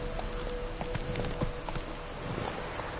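Horse hooves clip-clop in The Witcher 3, a brisk steady rhythm of sharp knocks close by over a low ambient bed.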